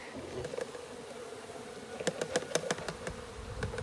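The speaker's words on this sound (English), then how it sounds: "Now the bees are in here." Honey bees buzz inside a container during varroa mite testing, a low, faint, steady drone with sharp tapping and rattling knocks near the end.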